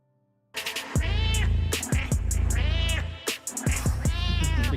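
A cat meows repeatedly in loud, drawn-out, pitch-bending cries laid over a heavy rhythmic beat, like a cat-sound rap track, playing up close without pause.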